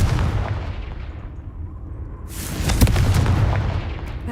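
Blasting spell explosion from the Confringo curse in Hogwarts Legacy, a loud booming burst that swells at mid-clip over a continuous low rumble of battle ambience, with no talk.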